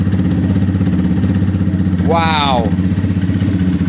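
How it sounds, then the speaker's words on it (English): A Honda CBF 125 motorcycle runs just after its first start, idling with a loud, close, rapid single-cylinder chug, while a voice briefly exclaims partway through. "there we have the basis of a running bike"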